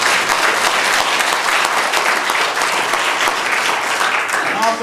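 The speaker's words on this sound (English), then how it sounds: "A big round of applause for a wonderful introduction." Loud, dense audience applause after a speaker's introduction, a thick continuous roar of many hands clapping at once, sustained and full from start to finish.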